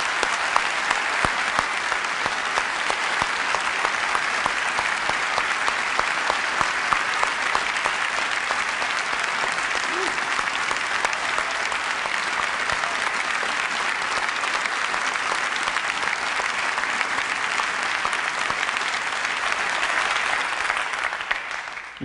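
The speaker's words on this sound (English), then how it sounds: "I would just like to give them a round of applause." A large audience at an Apple product event in October 2005 applauds loudly and steadily, a dense unbroken wash of clapping that lasts about twenty seconds before tapering off.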